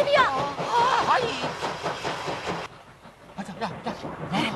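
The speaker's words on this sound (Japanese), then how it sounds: "蒸気機関車だよ" A steam locomotive runs in a children's program, its hiss and chugging heard under excited, high-pitched cartoonish voices that keep talking throughout.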